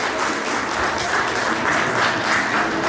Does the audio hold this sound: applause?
yes